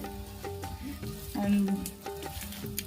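An aloo paratha fries on a pan in oil and ghee, a close, steady sizzle with soft scraping and pressing sounds, while faint tonal background sounds run underneath.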